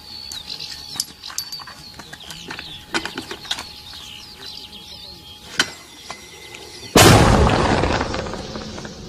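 A mortar round fired from a position near Luhansk airport: one sudden loud boom at about seven seconds, its roar decaying slowly, after scattered clicks and mechanical clatter with birdsong in the background.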